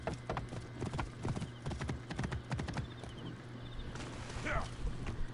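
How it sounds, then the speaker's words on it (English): Horse hooves clip-clop in a steady, fast rhythm throughout the Assassin's Creed Origins game, with a brief whinny near the end, all under a constant low hum of game ambience. "Whoa. Yeah, horse, yeah."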